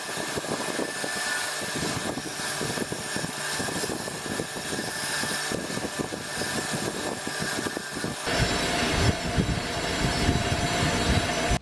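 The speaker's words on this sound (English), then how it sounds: "I'll take a wire wheel to that real quick." Wire wheel scrubbing burnt paint off a hacksaw blade being made into a pottery trim tool: a loud, steady motorised whir and rasp that grows harsher and louder toward the end, with no talking.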